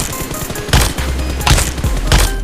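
Gunfire in the mobile battle game PUBG Mobile: short bursts of shots ring out loudly in quick succession, with several sharp cracks clustered at regular intervals over a low rumble.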